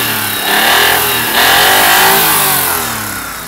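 A Daewoo Matiz SE car engine revving near at hand, two swelling rises in pitch and loudness before easing back toward idle, no talking.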